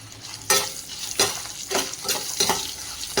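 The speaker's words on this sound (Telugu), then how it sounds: "ఇప్పుడు తురిమిన మామిడికాయ యాడ్ చేసుకుని బాగా ఫ్రై చేస్తూ ఉడికించుకోవాలి" Grated raw mango for Andhra-style pulihora stirred and fried in a pan, with regular scraping strokes about every second over a soft continuous sizzle.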